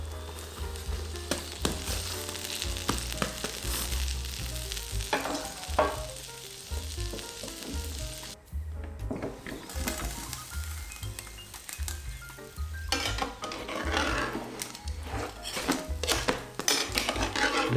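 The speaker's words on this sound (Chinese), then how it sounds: "翻面接着烙。" A large homemade meat pie frying on a household electric griddle, turned over partway: a steady sizzle with occasional scraping and handling clicks, a brief lull in the middle, then livelier crackling.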